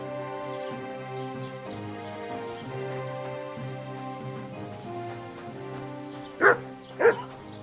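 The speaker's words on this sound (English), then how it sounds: "You're my doggy, eh?" Dog in the medieval video game Kingdom Come: Deliverance II gives two sharp, close barks near the end, heard over sustained tonal background music.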